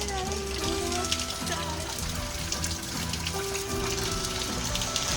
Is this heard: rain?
yes